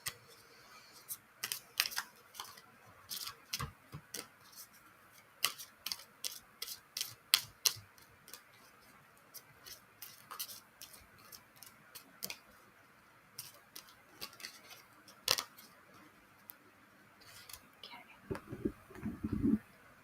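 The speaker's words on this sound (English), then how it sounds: "I'm going to go ahead and shuffle up the majors now." Linestrider Tarot major arcana cards being shuffled, a quiet run of crisp papery clicks and riffles in irregular bursts, with a soft handling rustle near the end.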